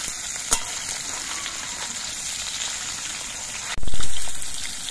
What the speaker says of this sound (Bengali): মাছগুলো খুব কড়া করে ভাজবো না, আমি মাঝারি ভাবে মাছগুলোকে ভেজে নেব।